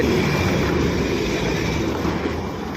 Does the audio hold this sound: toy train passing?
yes